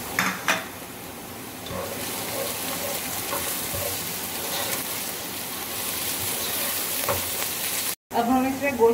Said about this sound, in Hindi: इसमें हम प्याज फ्राई करेंगे